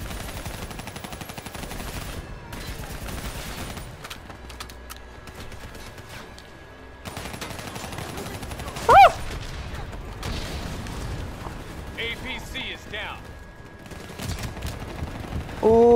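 Intermittent bursts of gunfire aimed at a VTOL aircraft in Black Ops 3 combat, rattling volleys coming and going over a rumbling battlefield bed, with a sharp loud hit near the middle and more shots toward the end.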